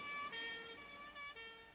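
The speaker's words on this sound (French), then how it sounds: "on entend une sirène de pompiers" A firefighters' siren wails on a street, its steady, gently shifting tones sounding continuously at moderate distance for the whole stretch, with no voices over it.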